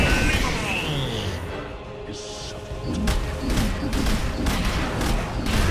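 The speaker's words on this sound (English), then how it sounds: "brings out the machine gun now, and Armel just melts" Machine-gun fire crackles in a Dota 2 team fight, with rapid bursts of shots layered under dense battle effects and a voice talking over them.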